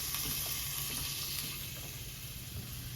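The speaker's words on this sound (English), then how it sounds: "This is my photographer's favorite thing, is that sizzle" Onions sizzling in hot oil in a pan, a steady broadband crackle and hiss that holds close and loud throughout, easing slightly toward the end with no voices.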